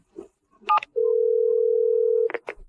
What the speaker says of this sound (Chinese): 我答应你，给家里打个电话。